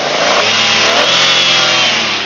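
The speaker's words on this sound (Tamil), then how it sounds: "வண்டி இப்ப ஸ்டார்ட் பண்ணாங்க, எப்படி இருக்குன்னு கேளுங்க." The petrol engine of an automatic Wagon R car runs loudly up close, revving with a steady mid-pitched roar throughout.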